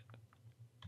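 A few soft, quick taps on a computer keyboard, faint and close, spaced irregularly over a low steady hum.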